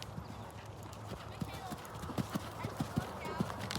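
Horse cantering during a riding lesson, with regular muffled hoofbeats in a steady three-beat rhythm under an instructor's talk.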